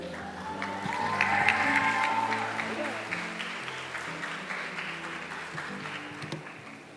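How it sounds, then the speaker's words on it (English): An audience at a school Model United Nations closing ceremony breaks into applause that swells in the first seconds, then thins to scattered claps with some cheering and chatter. "one last round of applause for TBSU MUN again"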